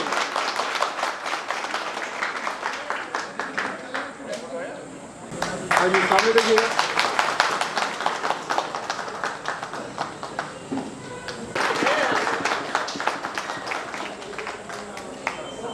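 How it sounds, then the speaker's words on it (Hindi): Applause at a station master's retirement party on a railway station, many hands clapping in fast bursts that swell, dip, then rise again, with people talking over the clapping. "ताली बजाइए भाई, ताली बजाइए।"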